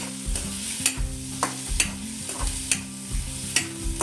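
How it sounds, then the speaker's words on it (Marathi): Green chilies stir-fried with softened onion in a pan at home, with a steady sizzle under repeated scraping strokes of a spatula against the pan, fairly close and continuous without talk. "आता मिरची टाकून घेऊया तिखटनुसार. त्याला आपण परतून घेऊया मस्तपैकी"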